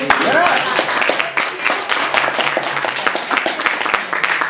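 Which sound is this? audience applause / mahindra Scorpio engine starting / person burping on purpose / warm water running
audience applause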